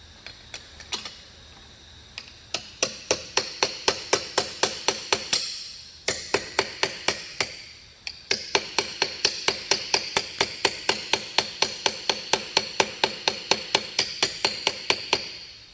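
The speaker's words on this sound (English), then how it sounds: "And we are going to hammer along" A hammer strikes an aluminum armor ear flap on an anvil in a long run of quick, evenly spaced metallic blows. Brief pauses break the run near the start and midway, and the ringing taps sound close and loud.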